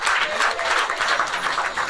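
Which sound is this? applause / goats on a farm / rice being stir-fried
applause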